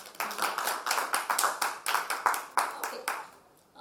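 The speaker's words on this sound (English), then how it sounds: "Shall we applaud for everyone here?" A small group claps steadily for a few seconds, nearby and fairly loud, the rhythmic claps fading out at the end.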